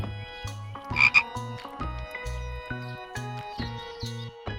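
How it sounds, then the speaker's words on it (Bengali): Frog croaking repeatedly in a steady pulsing rhythm, about ten short throaty croaks close by, with a brief higher chirp near the start and no talking. "ওতে ব্যাং"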